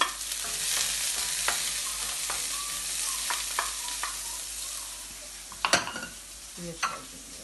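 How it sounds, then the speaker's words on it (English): Garlic, scallion and onion sauté in a saucepan for Jamaican ackee and saltfish, making a constant bright sizzle with scattered scrapes and a few louder clanks of a utensil against the pan, with no talking. "We're just going to saute these a bit before we add our saltfish as well as our ackee."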